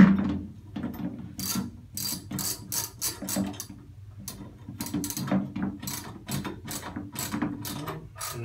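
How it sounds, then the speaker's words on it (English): Ratchet wrench tightening the lock nut on a Side-Power SE30/SE40 boat thruster prop, rapid clicking pawl bursts repeating in short strokes throughout, close and clear. "And then we're going to tighten that back up, pulling your prop while you do so."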